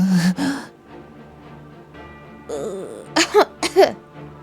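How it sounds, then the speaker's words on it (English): A person coughs and gasps after being thrown down onto concrete, with two rough bursts near the start and a quick cluster of harsh, close coughs toward the end, separated by a quiet breathy gap. "cough, cough."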